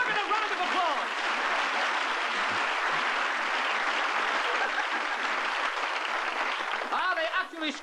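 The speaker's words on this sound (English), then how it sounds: "Look at the round of applause." A television studio audience gives a comedy double act a dense, loud, sustained round of applause that carries on evenly throughout, with a voice briefly heard near the end.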